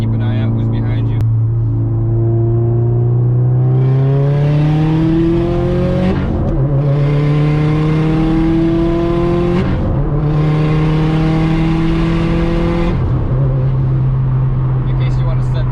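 Subaru car driving forward, its engine note rising in pitch with each gear, then dropping at the shifts, loud and close with steady road noise underneath.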